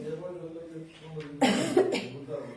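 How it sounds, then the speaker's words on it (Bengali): A short burst of coughing breaks in partway through, loud and close, after a stretch of quiet talking. "বেশি কথা বললে কাশি চলে আসতেছে"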